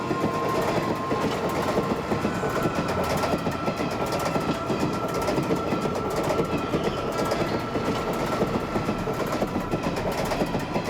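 A train runs on rails with a continuous rumble and a steady, rhythmic clickety-clack of wheels over track joints, close and fairly loud, with no voices throughout.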